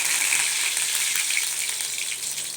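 Mustard seeds and curry leaves fry in hot oil with a bright, continuous crackling sizzle, close and loud throughout.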